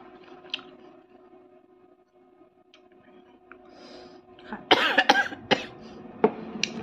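After a quiet stretch, someone nearby gives a few sharp coughs in quick succession, with a final cough shortly after.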